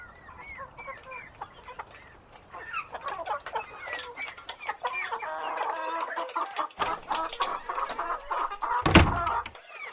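Hens cluck and chatter continuously in a chicken-farm barn with automated feeding and egg collection, a dense flock of overlapping calls growing busier, with a louder close squawk near the end.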